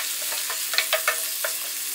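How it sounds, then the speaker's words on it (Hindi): Garlic and ginger fry in a pan for an onion tomato chutney, a steady close hiss broken by several quick spatula scrapes and taps, no talk. "लहसुन डाल देंगे और साथ ही में अदरक डाल देंगे और इनको कुछ सेकंड के लिए भून लेंगे"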